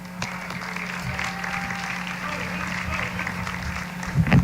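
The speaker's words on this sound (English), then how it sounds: "let's hear some loud cheering" A live event crowd claps and cheers continuously at moderate volume, a steady wash of applause with scattered shouts, swelling louder near the end.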